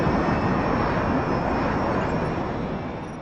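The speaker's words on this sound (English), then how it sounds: "The plane must fly over the Aleutian Mountain Range to reach Anchorage International Airport." Steady, loud roar of a Northwest airliner in flight over the Aleutian mountains toward Anchorage, a dense broadband engine and airflow rumble holding constant throughout, easing only slightly at the end, with no voices.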